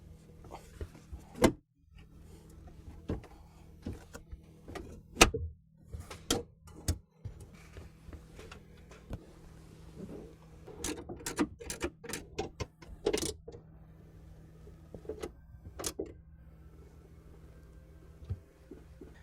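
Factory bolts being driven down by hand to secure the heat shield of a Flowmaster Delta Force cold air intake on a 2014-16 GM Silverado/Sierra 1500 5.3L, heard as scattered close metallic clicks, ratchet ticks and clunks over a low steady hum.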